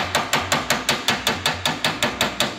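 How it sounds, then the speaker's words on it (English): Hammer and dolly planishing a creased dent out of sheet metal: a steady series of about a dozen sharp, ringing metallic strikes at an even rhythm, close and loud with no talk. "you can start to hear that the dolly is making contact through the metal to the hammer"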